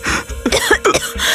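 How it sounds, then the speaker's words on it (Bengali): Someone coughs nearby, a quick cluster of three or four hoarse, throaty coughs in close succession, loud and close against a low background. "তখনই কারোর কাশির আওয়াজ শুনতে পাই"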